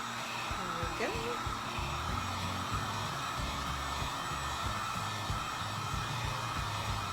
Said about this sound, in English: now I'm gonna heat up the gun again.